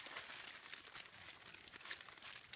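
Aluminium foil crinkles and crumples steadily as it is pressed and shaped into a pattern for foam armor bracers, a faint continuous rustle with no talking.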